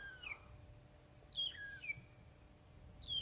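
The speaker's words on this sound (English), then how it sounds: "we can still hear the magpie shrikes making lots of noise" Magpie shrikes calling at sunrise in Sabi Sand, a few loud, clear whistled notes arriving in spaced bursts over a low, steady outdoor rumble.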